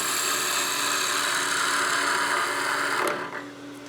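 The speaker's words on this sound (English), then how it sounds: "I'm actually going to remove some of this with the skew with a peel cut" Skew chisel taking a peel cut on a wood lathe while turning a Christmas gnome, a steady, loud broadband hiss of shaving off the spinning wood that holds for about three seconds, then tapers off and quiets.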